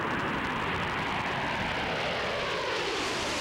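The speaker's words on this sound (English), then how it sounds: "A Canadian Forces snowbird jet crashed at a Montana air base" A Canadian Forces Snowbird jet at an air show rehearsal at a Montana air base, heard as a steady, loud broadband engine roar that fills the whole stretch without a break.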